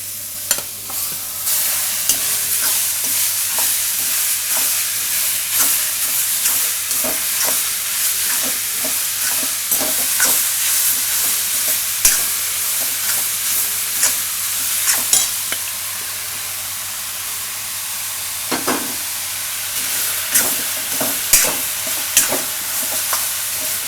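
Chopped bottle gourd sizzles in oil in a pan while a spoon stirs and scrapes it repeatedly, loud and close, with no voices.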